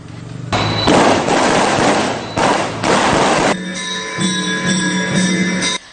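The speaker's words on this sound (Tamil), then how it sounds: "சிறுவர்கள் பட்டாசு கொளுத்தி தைத்திருநாளை வரவேற்றனர்." Firecrackers set off by children at a Thai Pongal festival in Vavuniya burst in loud, dense crackling volleys, two long bursts broken by short gaps, then give way to a sustained ringing, buzzing tone.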